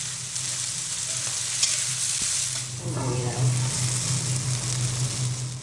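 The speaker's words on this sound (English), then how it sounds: "She chops a vegetable, adds it to the pork she's fried" Pork and chopped vegetables frying together in a pan in a home kitchen, giving a steady broadband sizzle with stirring clatter and a low hum, a few faint voices in the background.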